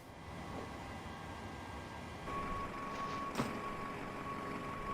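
Airport ground vehicle noise in Microsoft Flight Simulator, a low steady engine drone from a bus and baggage vehicles with a sustained tone and a brief sharp knock, faint and continuous.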